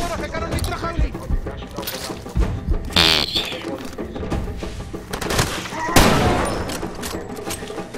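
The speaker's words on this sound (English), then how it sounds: "I shot that guy with a rifle" Rifle fire in the video game Far Cry 2 comes as several sharp cracks and bursts amid game sounds and clatter, with a person talking over parts of it.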